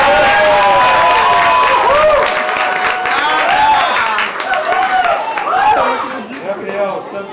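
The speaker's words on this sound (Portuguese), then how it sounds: "Então aqui, as salvas de palmas para o Juca Souza." A crowd claps and cheers for a performer at a Sesc cultural evening in Gávea, with loud, sustained applause and voices over it.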